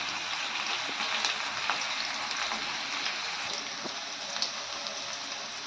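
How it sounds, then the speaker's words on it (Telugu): Sliced ivy gourd, carrot and green chillies frying in a pan give off a steady, hissing sizzle with scattered small pops, close and even throughout, with no talk. "దొండకాయ క్యారెట్ పచ్చిమిరపకాయలు బాగా వేగిపోయి కదా"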